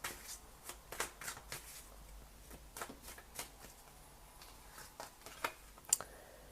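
Tarot cards shuffled and drawn for a reading, a run of soft dry riffling flicks and light slaps, close and quiet, with a sharper snap near the end.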